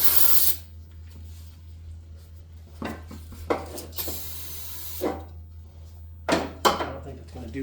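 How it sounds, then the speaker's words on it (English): Brake cleaner sprays into the engine of a Peugeot 504 in several short, sharp hissing bursts over a low steady hum, with quiet clatter between them. "I don't think it's going to do anything on just brake cleaner alone"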